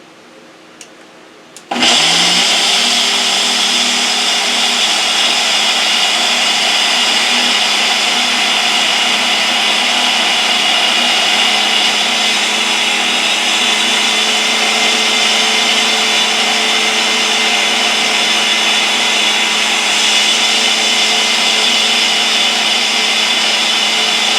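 A Ninja blender whirs loud and steady, blending a cranberry, banana and strawberry smoothie with water, starting abruptly after a moment of quiet and running continuously with no speech.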